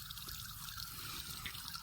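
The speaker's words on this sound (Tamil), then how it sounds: "ஃபுல் ஓப்பன் பண்ணிட்டேன், தண்ணி நிறையா வந்துட்டுருக்கு." A drip irrigation tap at a coconut palm plantation opened fully, steady rushing water flowing continuously and fairly loud, with no speech over it.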